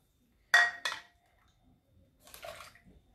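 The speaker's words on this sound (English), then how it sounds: "I do 3 of my hot water in the bucket." Hot water poured into a bucket in two short splashing bursts followed by a softer, brief pour, close and quiet with no talking.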